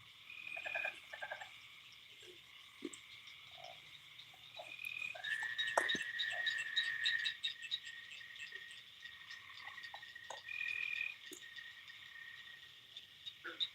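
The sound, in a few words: tree frogs croaking with crickets at night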